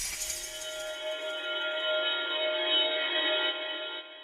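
Pitched shimmer texture samples from Splice, run through delay, open with a brief bright glassy sparkle, then settle into a sustained, airy cluster of high ringing tones with echoing tails, moderately quiet and alone.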